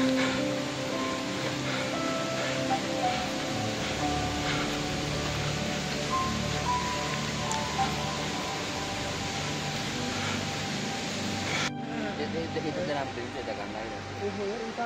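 Steady broadband rushing of flowing water fills the clip, constant and fairly close, with no talk over it.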